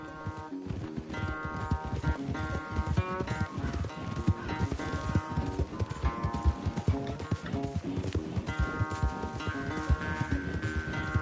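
A horse gallops at full speed in a race in the video game Red Dead Redemption 2, with rapid, continuous hoofbeats under a steady musical score.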